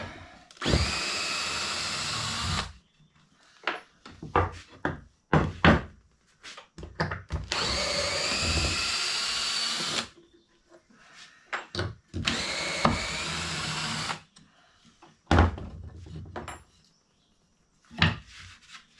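A powerful drill whirs in several bursts while clamping a table top, some long and sustained, others short, with clicks and knocks of tool handling in the pauses.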